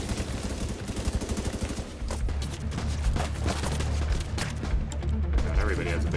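Rapid, loud gunfire from a big gun in The Division 2, bursts of repeated shots in a dense clattering rhythm, with further firing and voices mixed in.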